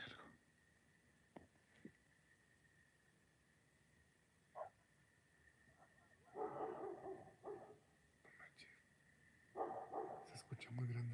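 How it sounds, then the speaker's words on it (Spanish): A large dog barks at night somewhere off in the distance, a few faint, scattered bursts over a quiet, hissing outdoor background, with low voices talking nearby between them. "Se escucha muy grande ese perro, güey, ¿eh?"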